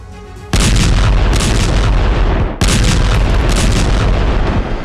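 Heavy artillery fire and explosions in the Gaza war, with two loud, sustained blasts rolling in one after another, each breaking into a long booming roar that fills the space.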